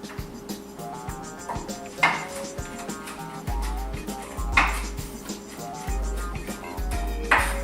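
Two medium garlic cloves are diced with a knife in a kitchen, producing quick, rhythmic taps on a cutting board with a few louder strikes among the steady chopping.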